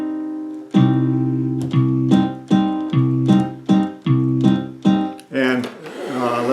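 An accordion sounding a minor chord, held reedy tones pulsed in repeated sustained bursts with bellows swells, close and loud, ending in a brief rougher flourish.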